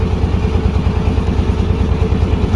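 Fishing trawler engines chug steadily on the water near Dublar Char, a continuous low rumbling throb with a rapid pulsing beat, fairly loud and steady throughout with no talk.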